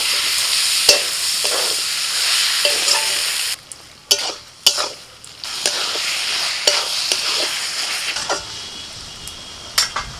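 Chicken with coriander powder, Kashmiri chilli powder, turmeric, salt and chopped tomato fries and is stirred in a pan, loud sizzling broken by scraping strokes and a few metallic clinks, with a brief quieter gap midway.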